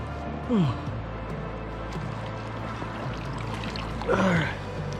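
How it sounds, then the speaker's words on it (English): A trail runner wading into a creek during the Western States 100, with steady rushing water throughout and two brief louder splashes near the start and toward the end, over a low background rumble. "everybody recommends you get in the creek to cool off before starting to climb up the Devil's Thumb"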